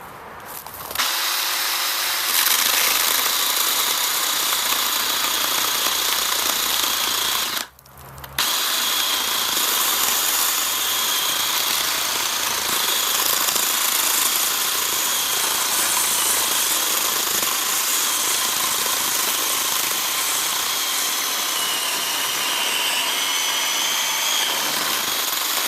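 Ryobi 40-volt battery chainsaw cutting through an old, dry stump about six inches across, a loud steady high-pitched whine that cuts out for a moment partway through before resuming and running to the end.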